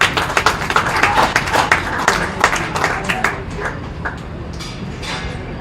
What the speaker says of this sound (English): let's go ahead and give them a round of applause out here